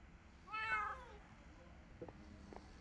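In a video game, a single cat gives one clear, close meow, followed by a couple of soft taps over a quiet background.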